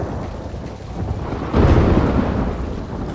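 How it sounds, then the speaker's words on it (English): Thunder from lightning over a caravan at night in the Mortal Kombat 1 story mode: a loud, deep rumble swells midway over a constant rain-like wash, with no voices. "Lightning flashes over Shang Tsung's caravan at night."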